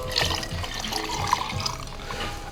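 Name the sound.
soda water poured into measuring jug for sangria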